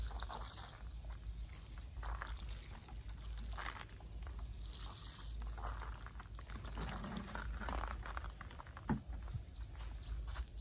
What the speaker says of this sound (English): I'm gonna go ahead and I'm gonna moisten my soil.